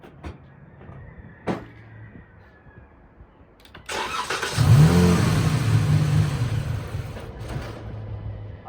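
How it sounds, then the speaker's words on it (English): A 2014 Dodge Charger SE 3.6 engine cranks with a whirring starter, catches and runs with a steady rumble, louder than the quiet clicks before it. "So I'm gonna go ahead and crank the car."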